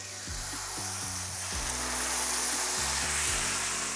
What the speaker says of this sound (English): we're just going to heat up this pan with some vegetable oil, bring that up to temperature